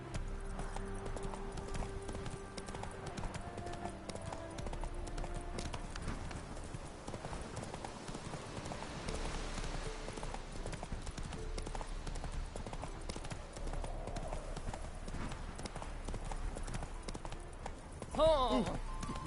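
Roach the horse from The Witcher 3 galloping, a continuous rhythmic clatter of hooves under game ambience and music, moderately faint, with a voice speaking over it.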